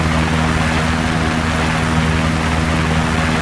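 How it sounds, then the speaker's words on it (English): Osprey tiltrotor aircraft in flight in the Arma 3 video game, a steady loud propeller and engine drone with a low hum, continuous and close with no break. "That is the Osprey with the window open"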